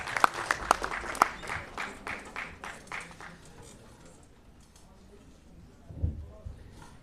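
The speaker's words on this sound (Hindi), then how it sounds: "जोरदार तालियों से इस्तकबाल कीजिए इस शेर से खालिद जनाब इमरान अताई साहब।" Audience applause breaks out at an Urdu mushaira poetry event for young poets, with a burst of clapping at the start that thins and fades into a murmuring hall, then a brief thump near the end.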